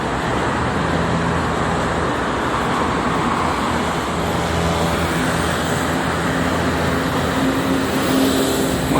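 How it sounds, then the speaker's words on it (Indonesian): Steady, dense roar of holiday traffic on the Jakarta–Cikampek toll road, with tour buses and private cars rushing past continuously, loud and unbroken throughout. "Banyak bis-bis pariwisata sama mobil pribadi juga lumayan banyak ini ya."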